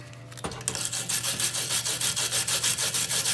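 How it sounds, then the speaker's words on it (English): Metal being scraped clean by hand before MIG welding dissimilar metals, a steady run of rhythmic rasping strokes, close and fairly loud, with no talk. "kind of scrape this off a little bit"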